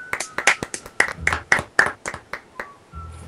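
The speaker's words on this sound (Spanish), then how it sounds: "Un aplauso para el diseñador" Close, uneven clapping, about a dozen sharp claps in loose bursts, cheering a vehicle designer during a multiplayer Garry's Mod sled-building session.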